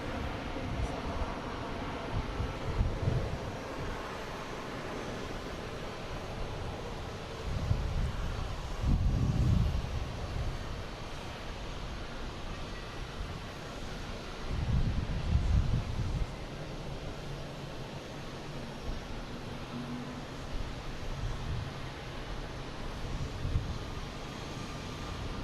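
An Air Portugal airliner bound for Lisbon at Boston Logan airport: a distant, low engine rumble that swells in a few broad surges over a steady hiss of background noise, with no voices.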